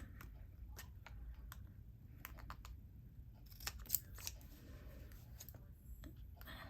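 Scissors snip paper for a handmade document folder in a series of small, quiet cuts and clicks, close and sparse against a low room background.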